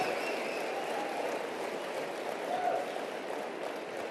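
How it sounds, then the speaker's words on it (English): Steady wash of applause from an audience at a motivational speaking event, dense and continuous throughout with no clear gaps, moderately loud and diffuse. "Give yourselves a round of applause."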